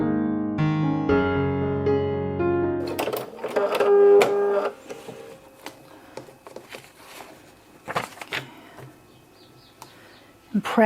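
A sewing machine stitches a paper-pieced Palazzo quilt block in short mechanical bursts and runs, following a stretch of music-like tones, with intermittent clicks and handling noise close by.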